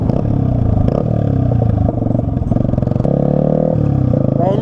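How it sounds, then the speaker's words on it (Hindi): A modified Yamaha R15 V3 motorcycle with a loud aftermarket exhaust, its engine droning and revving up and down close by in a steady roar. "इतना लाउड है इसका एग्जॉस्ट का साउंड।"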